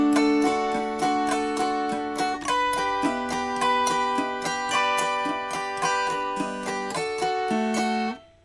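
Autoharp played with a four-finger arpeggio strum, bright plucked strings rolling in an even repeating pattern with chords changing every bar or so, clear and close, ringing out alone.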